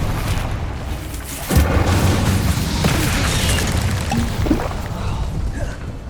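A fire spell cast in the video game Hogwarts Legacy, a sudden whooshing boom that bursts in and holds as a dense, roaring crackle over constant game ambience, with no one talking.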